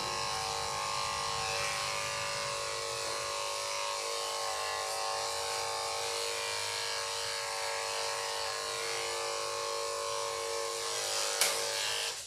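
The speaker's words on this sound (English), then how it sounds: "that's why we shave that's at least why I shave sanitaries" Electric clippers trim the sanitary area of a doodle dog during grooming, a steady close buzzing drone that holds evenly for the whole stretch with only a slight change near the end, and no voices.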